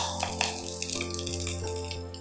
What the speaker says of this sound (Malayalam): ഇനി നമുക്ക് തിളച്ച വെള്ളം ഒഴിക്കാം ഇതിലേക്ക്.